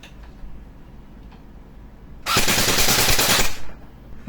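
An EC 702 airsoft rifle fitted with an M203 launcher fires a loud, close full-auto burst lasting over a second, a dense rattle of rapid shots, after a quiet lead-in.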